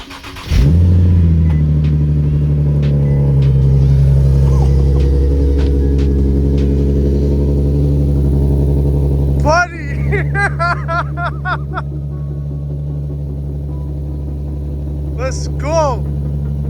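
Car engine with test pipes and polyurethane transmission and motor mounts cranks and fires, then settles into a loud, deep, rumbling idle with brief revs, while people talk faintly over it.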